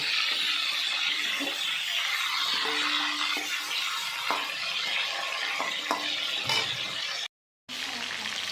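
Chicken pieces sizzle in hot mustard oil in a kadai while being stirred and turned, producing continuous frying with scraping and clinking. Close and steady, with a brief cut near the end.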